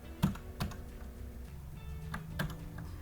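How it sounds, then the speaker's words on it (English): A few isolated keystrokes on a computer keyboard during a Ruby Pry shell session, sharp close clicks spaced apart with quiet gaps, no voices. "there's also a keyboard shortcut, and that's Control-D"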